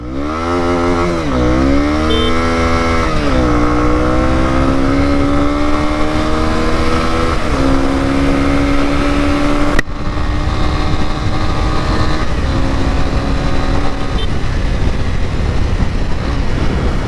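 A Honda CB250R motorcycle accelerating hard on an empty road, its engine note climbing through several gear changes with a loud, steady roar and wind rush throughout, no talking.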